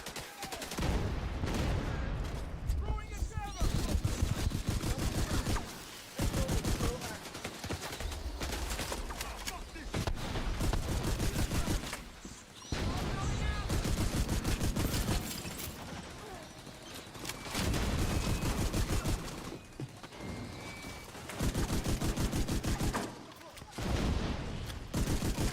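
Bursts of gunfire and explosive weapon blasts from The Division 2, a rocket launcher among the weapons, come in loud, dense volleys separated by brief lulls, with game effects mixed through.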